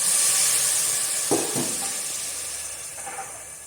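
Cloves hiss and sizzle in hot oil while a pulao is being made, with a steady bright frying hiss that slowly fades and a couple of brief clinks partway through.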